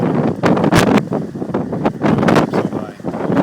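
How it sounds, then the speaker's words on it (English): Strong gusts batter the microphone at a flooded seaside after Hurricane Irene, loud roaring bursts rising and falling over a few seconds with water sloshing faintly beneath. "Oh, it's so windy."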